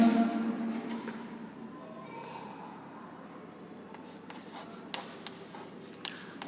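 A formula is handwritten with pen or chalk in steady scratching strokes, close and fairly quiet, and a few sharp taps come near the end.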